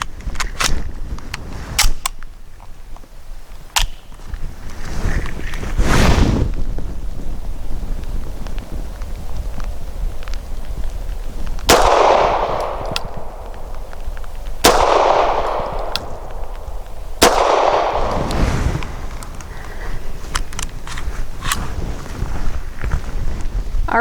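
Several sharp pistol shots ring out from a Walther P5 firing S&B 150 grain rounds at an outdoor range. They come in a spaced sequence, each a loud crack with a ringing tail, and wind rumbles in the microphone between them.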